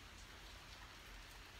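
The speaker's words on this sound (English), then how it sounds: "it's pretty rainy out." Steady rain falls outside on an evening during a southwestern Michigan thunderstorm, a soft, even hiss of drops heard faintly and continuously with no voices.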